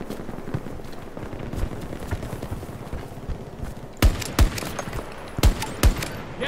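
Bursts of distant automatic gunfire rattle under a busy battlefield din in Battlefield 2042, then several sharp, louder close shots punch through near the end.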